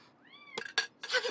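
A house cat gives one short, rising meow, followed by a few close, sharp rustling and thumping noises.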